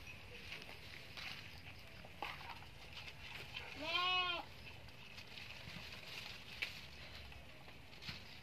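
A goat in a livestock pen gives one short, faint bleat that rises and falls halfway through, over low farmyard background noise with scattered small knocks and rustles.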